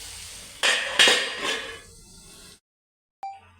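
A metal lid is set onto a cooking pot on a stove, with a few sharp metallic clanks and rattles in quick succession that ring briefly and fade, followed by silence and a faint final tap.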